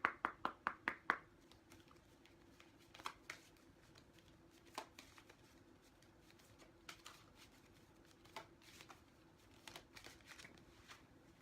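Oracle cards get shuffled by hand before one is drawn, opening with a quick burst of sharp riffling snaps and then settling into scattered soft flicks and taps, close and quiet with no speech.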